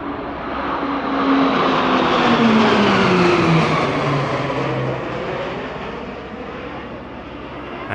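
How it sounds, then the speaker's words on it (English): A Commonwealth Aircraft Corporation Winjeel, a three-seat RAAF propeller training aircraft, drones past at an airshow, its engine tone swelling and then sliding lower as it passes and fades away, with no voices. "It's followed by a Commonwealth Aircraft Corporation Wingeel, a 3-seat training aircraft used solely by the RAAF"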